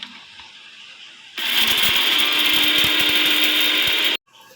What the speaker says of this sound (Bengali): এই যে আমার একটু গরম মশলাটা গুঁড়ো এই যে করে নিলাম।